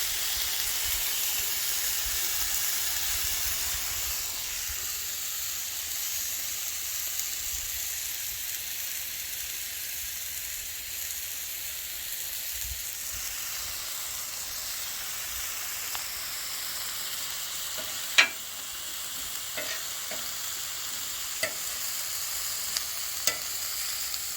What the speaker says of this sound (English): Our beef's browning up